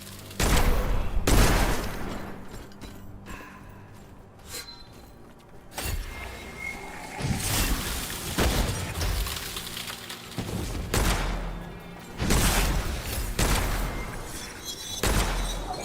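Gunfire in the video game Witchfire: scattered loud bursts and booming shots at irregular intervals, with quieter gaps between volleys.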